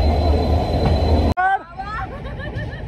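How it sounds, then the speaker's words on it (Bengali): Night passenger train starting its journey, a low heavy rumble cut off abruptly by a sharp break, then squealing wheel screeches over rail noise with murmuring chatter in the background. "ঠিক রাত 11টা 25 বাজার সাথে সাথে আমাদের ট্রেন নিজের যাত্রা শুরু করে দিল"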